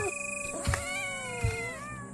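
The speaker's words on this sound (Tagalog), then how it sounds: "Nagkakagulo ang mga pusa." Cats fight and yowl on a rooftop at night, long rising and falling caterwauls overlapping in harsh, wavering cries with a couple of sharp thumps, loud and close throughout.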